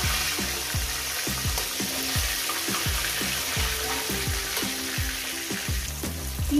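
Rohu fish pieces frying in hot oil, a steady close sizzle with repeated clinks of a utensil against the pan throughout.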